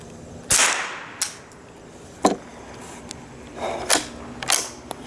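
Several sharp reports from a .22LR rifle that keeps failing to eject or feed, fired at an uneven pace of roughly five or six cracks, some followed by softer metallic clicks, with no talk.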